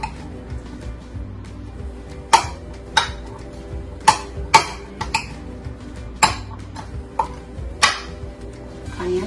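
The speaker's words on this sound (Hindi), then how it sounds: "let's just mix all of this together" A spoon clinking against a bowl while a Ramadan salad of onion, tomato and cucumber is mixed, with scattered sharp metallic taps and scrapes at irregular intervals over a quiet kitchen background.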